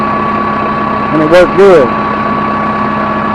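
A 63 horsepower tractor engine idles at a steady, loud, even drone throughout, with someone briefly speaking over it.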